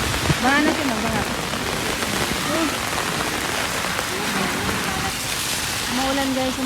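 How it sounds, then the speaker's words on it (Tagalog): Heavy rain pours steadily on an outdoor surface, a constant dense hiss throughout, with faint voices and other background sounds mixed in. "Kasi ngayon lakas-lakas na."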